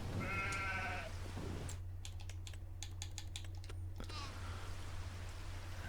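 Sheep in the Farming Simulator 25 farming game give a wavering bleat near the start, followed by a stretch of rapid computer keyboard typing, all under a steady low background hum.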